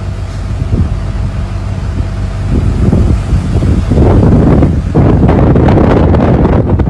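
Tornado crossing a road, a loud, continuous roaring rush like a freight train, dominated by heavy wind buffeting on the microphone and building in intensity toward the end.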